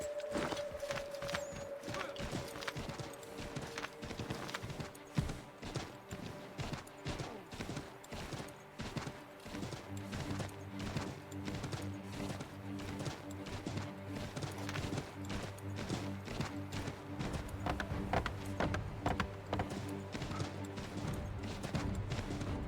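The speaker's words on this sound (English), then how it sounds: "Take my horse! Bring him here!" A horse's hooves clip-clop in a steady, fast rhythm through Assassin's Creed III, with a few crashing impacts and faint voices over the continuous gait.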